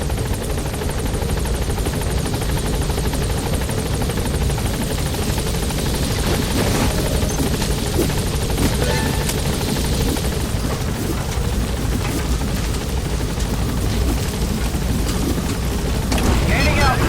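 Rotor thump and turbine roar of the Pequod helicopter lifting off in the video game Metal Gear Solid V: The Phantom Pain, a loud, steady, dense din that holds throughout and swells slightly near the end.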